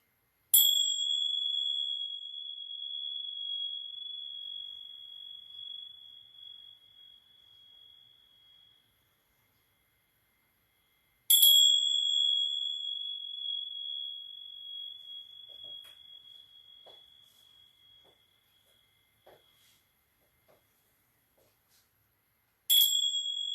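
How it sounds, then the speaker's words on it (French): A gong struck during a guided meditation session, rung three times, each strike ringing out with a long, slowly fading metallic tone before the next, in an otherwise quiet room. "On va faire un petit coup de gong avant de finir."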